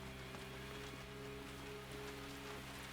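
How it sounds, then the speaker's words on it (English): Rain falls in the Resident Evil 2 video game, a faint, steady patter and hiss on surfaces with a low electronic hum beneath, continuous and without voices. "Is that the rain? I've never heard it so loudly."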